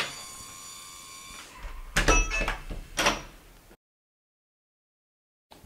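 Linus smart lock on a door working through an unlock cycle: a steady motor whine, then several sharp mechanical clacks and a rattle of the bolt, followed by sudden silence and a faint click at the end.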